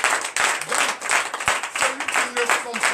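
At a Sunday church service, a congregation claps in uneven sharp bursts, mixed with raised voices and faint singing.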